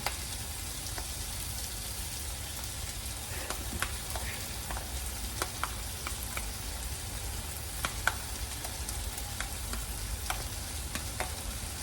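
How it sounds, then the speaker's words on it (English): A pan of soaking leftovers is stirred over heat. A steady, close sizzle runs throughout, dotted with soft scraping clicks from the stirring. "I'm going to give this a little bit of a stir."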